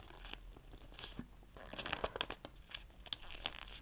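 Paper folded into a pleat for an origami rose, making close, quiet crinkles and sharp creasing crackles in irregular bursts, fairly faint throughout.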